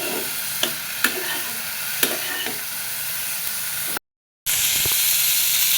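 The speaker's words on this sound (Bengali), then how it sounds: "শাক ভাজা হয়ে গেছে" Bottle gourd greens frying in a pan give a steady, close sizzle, punctuated by a few sharp clinks of stirring, with a brief dropout before the sizzling resumes.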